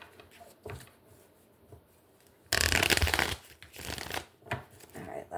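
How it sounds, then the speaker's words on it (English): Tarot cards shuffled by hand in a quiet room during a Capricorn reading, a soft riffling burst of riffle-and-bridge shuffling in the middle, with lighter flicks and taps of the deck before and after; no talking. "we're going to do 3 shuffles and get to it here"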